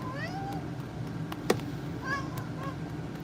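A pet cat making soft, quiet chirping trills, a few short rising calls spaced apart with one brief click between them, heard close up against a low background hum.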